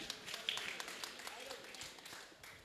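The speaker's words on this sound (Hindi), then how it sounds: "जो भैया के लिए जोरदार ताली बजाएं।" An audience at an evening religious and cultural program in Bholanath Nagar, Delhi, claps faintly and steadily at a distance, with talk heard over the clapping.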